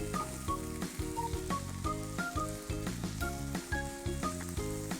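Potatoes stir-fried with onion and green peppers in a hot pan, a steady close sizzle running beneath prominent melodic background music.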